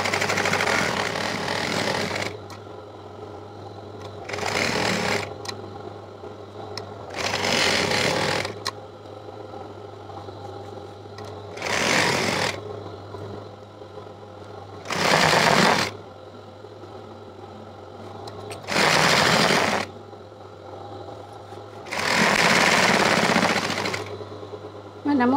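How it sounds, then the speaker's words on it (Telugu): A sewing machine stitches lining and main cloth together on a Punjabi dress top with a wide stitch, in seven or eight loud whirring runs of a few seconds each, separated by quieter pauses under a low steady hum. "దొడ్డు కుట్టు పెట్టుకొని కొట్టుకోవాలి।"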